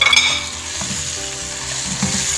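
Shell pasta is stirred into a sizzling sweet and sour sauce in a pan, with a loud, close, continuous sizzle and the scrape and clink of a spoon mixing.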